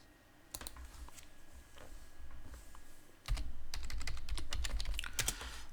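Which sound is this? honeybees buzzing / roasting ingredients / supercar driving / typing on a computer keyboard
typing on a computer keyboard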